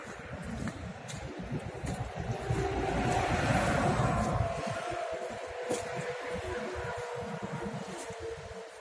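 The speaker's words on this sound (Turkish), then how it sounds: "Bayağı dalga var." Sea waves roll onto a beach shore as a continuous broad rumble of surf that swells to a louder surge midway and then eases, with some wind buffeting the microphone and no talk.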